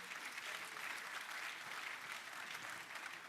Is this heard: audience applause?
yes